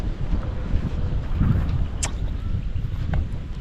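Gusty wind rumbles against the microphone in a constant low roar over a rice field, with a faint high tick now and then.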